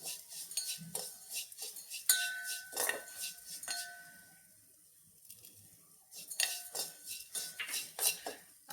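Ground rice rava being stirred and roasted in ghee in a pan for a sweet payasam, with a spoon repeatedly scraping and clinking against the metal pan in close, steady bursts with a short pause.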